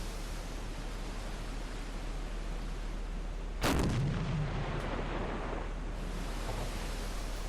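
A single heavy deck-gun blast fires at a ship in the submarine game Silent Hunter IV, booming over a steady roar of wind and sea noise and trailing off into a rumbling decay.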